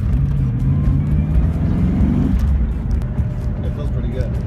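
A BMW E36 M3 with a V8 engine swap drives on the road at its first outing, a steady close engine rumble with a brief rising rev midway, while a voice talks over it.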